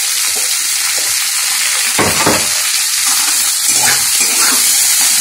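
Turmeric being stirred into bitter gourd frying in hot oil in a pan, a steady close sizzle with a scraping stir around the middle and no talk.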